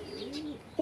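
A desi pigeon gives a short, soft coo, close and quiet, with nothing else around it.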